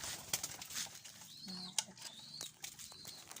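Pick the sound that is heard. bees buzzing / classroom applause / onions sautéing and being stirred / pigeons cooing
pigeons cooing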